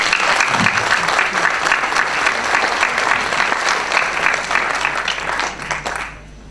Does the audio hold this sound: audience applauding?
yes